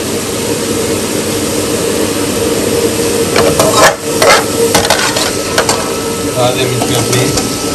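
Garlic frying in a pan for chicken Manchurian: a steady, close sizzling hiss with occasional crackles and stirring clatter, and faint background sounds.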